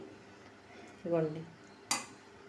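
Mango, ginger and lemon pickle made with little oil being spooned into a jar, giving a brief ringing scrape of utensil against container and then one sharp clink, both fairly quiet in a still room.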